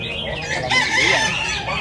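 A rooster crows loudly and close at a chicken beauty contest in Hóc Môn, Ho Chi Minh City, a single drawn-out call over faint crowd background.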